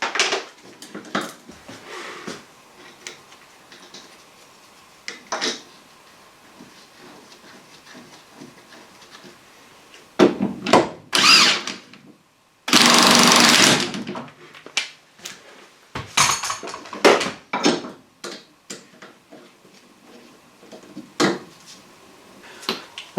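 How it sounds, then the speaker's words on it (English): A nut is worked off the top of a standard shock absorber on a pre-motorsport Opel Kadett project car, with scattered metallic clicks and taps of tools, a burst of ratcheting, and a loud hiss midway. No one speaks. "And I need to remove this nut from the top of the damper"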